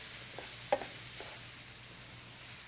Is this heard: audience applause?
no